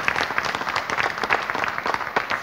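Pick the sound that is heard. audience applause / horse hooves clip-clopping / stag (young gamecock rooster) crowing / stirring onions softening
audience applause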